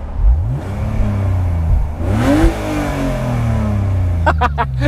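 A 231-horsepower BMW convertible's engine revs and pulls under acceleration while driving, rising and falling whine over a steady low drone, with brief sharp clicks near the end.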